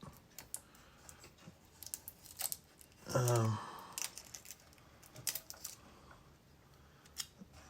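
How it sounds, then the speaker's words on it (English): Pieces of tape are pressed and smoothed onto a 1966 Batmobile scale model during a kit build: a short, close squeaky rasp of tape in the middle, with light clicks and handling taps before and after. "I'm gonna lay this down, these pieces of tape"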